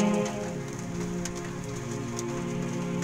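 Rain mixed with ice falls in Abha, Saudi Arabia, in a steady dense patter on surfaces, close and continuous with scattered sharper drops, with no voices.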